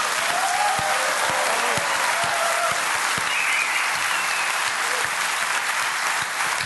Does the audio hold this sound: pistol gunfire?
no